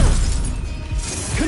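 A Bombarda blasting spell in Hogwarts Legacy, heard as a loud, dense crash and rumble with a shattering edge that stays full across a second and a half.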